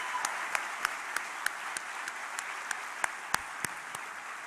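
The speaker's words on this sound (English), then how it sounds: "would you join me in a round of applause for Eleanor T., Jennifer Casey, and Dean Sop" A graduation ceremony audience gives a round of applause, a steady wash of many hands clapping in a large hall, with a few sharper individual claps standing out.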